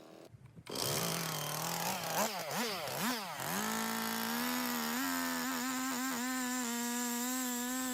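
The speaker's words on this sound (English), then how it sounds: "I just chop the corners off with the chainsaw." A chainsaw cuts the corners off a wooden bowl blank for woodturning, starting abruptly and then revving loudly up and down in several bursts before settling into a steady high whine, close by with no talking.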